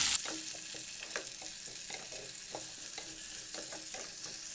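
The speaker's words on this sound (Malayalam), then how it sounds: "ഇനി അത് രണ്ടും കൂടി ഒന്ന് നല്ലോണം വാട്ടിയെടുക്കാം" Sliced potatoes and onion sauté in a pan for a Kerala-style masala curry, with a soft continuous sizzle and occasional light scraping stirs, close and fairly quiet.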